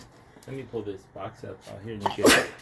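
Someone talks briefly, then someone close by lets out one loud sneeze.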